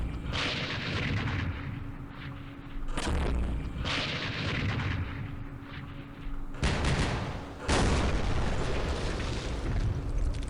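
Mortar artillery fire in a war strategy game booms out in several heavy, rumbling blasts spaced a few seconds apart, each decaying into a low roar with no talking.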